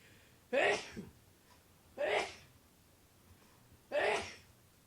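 Three sharp sneezes, evenly spaced about a second and a half apart, close to the microphone in an otherwise quiet room.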